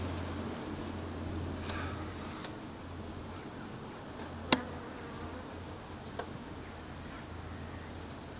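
Honeybees drone steadily at a hive feeder, a continuous low buzz that fills the space, with a few individual bees passing close by and brief faint ticks over it.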